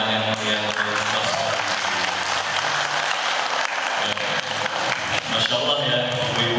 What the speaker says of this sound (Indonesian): sekali lagi berikan tepuk tangan yang meriah untuk Mas